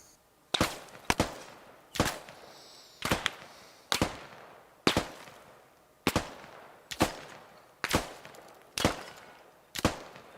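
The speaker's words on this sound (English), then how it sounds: "Ethel, if you would please demonstrate single fire rate. Contact west, opening fire." Single-fire rifle shots in the military shooter game Squad: about a dozen sharp, loud cracks fired one at a time at a steady, unhurried pace, sometimes as quick doubles, each trailing off in a short echo.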